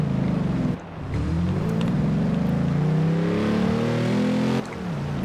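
A Mercedes G-Class with a 6-litre V12 biturbo engine revs in Forza Horizon 2, a loud, close, rising engine drone that dips briefly near the start, then climbs and holds before easing off near the end.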